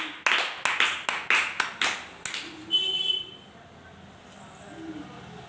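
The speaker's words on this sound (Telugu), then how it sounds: "క్లాప్స్." Students in a classroom clap in a quick burst of about eight sharp, evenly spaced claps lasting two seconds, then a few faint sounds and quiet murmurs trail off.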